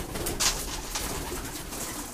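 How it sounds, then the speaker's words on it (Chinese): Pigeons, including a white one, coo softly while being fed, a gentle repeated coo heard at moderate distance over steady outdoor background noise. "你看那个白鸽子还是有点胆小"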